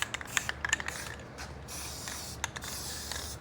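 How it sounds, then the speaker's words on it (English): A spray can spritzing inside a homemade boom cylinder shield for a QK16R Chinese mini excavator, heard as several short hissing bursts followed by a longer steady spray with light metallic clicks, close and without talk. "Give her a little spritz on the inside."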